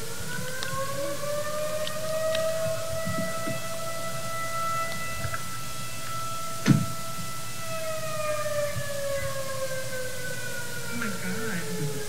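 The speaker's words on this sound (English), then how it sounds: "Some sort of a weird siren just came out of nowhere" A wavering, long-held siren wails steadily in the distance during a solar eclipse, its tones slowly rising and falling, with a brief sharp knock partway through.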